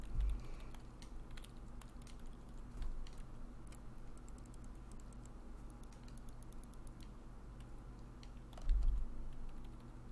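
Computer keyboard typing in the Everlasting Summer video game, faint quick clicking keystrokes in scattered bursts over a low background hum.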